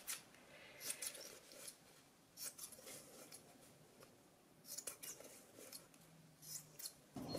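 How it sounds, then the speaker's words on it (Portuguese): Scissors snip the corners of a sewn fabric door protector, giving quiet, close, intermittent cuts in small clusters against a soft background. "vou cortar os cantos."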